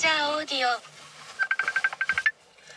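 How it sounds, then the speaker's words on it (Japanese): A telephone rings for an incoming call with a short run of rapid electronic tones, following a stretch of speech at the start; the ring is clear but moderate in level. "電話かかってきちゃったんで"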